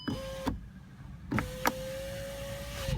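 Electric window motor on a Škoda Fabia Mk2 after a switch repair, whining steadily in two runs, a short one and then a longer one, close and clear. Sharp switch clicks mark each start and stop, and no one speaks.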